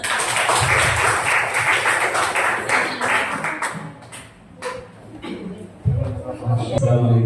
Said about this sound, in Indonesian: Tepuk tangan buat Ustaz.